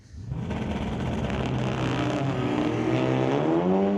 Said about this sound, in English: Nice liftoff for Everett in the Nova